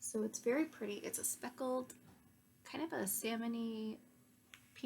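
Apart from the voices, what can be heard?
None of the usual background noises is heard.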